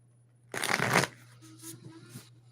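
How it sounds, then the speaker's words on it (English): Tarot cards are shuffled in a quick riffling burst, then softer handling and card slides follow, close and alone over a faint steady hum. "I know I'm shuffling a little bit more now."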